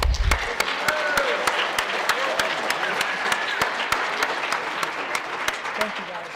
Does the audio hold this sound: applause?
yes